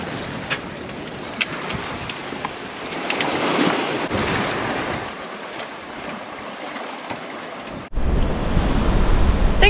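Waves and wind around a sailboat sailing solo on the open ocean between Panama and the Marquesas, a loud continuous wash of surf and gusting wind buffeting the microphone, with a brief dropout near the end.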